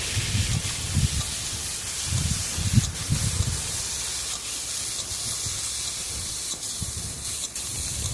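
Ridge gourd and jackfruit seeds frying in oil, a steady broadband hiss and sizzle running throughout, with low stirring knocks and bumps from the pan beneath it.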